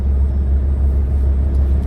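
A truck engine idles in cold weather with a steady, loud, low rumble throughout, continuous and unchanging with no voices.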